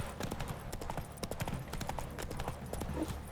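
A horse clip-clops at a steady walking rhythm in The Witcher 3, its hooves striking in quick, regular, close beats over a low background.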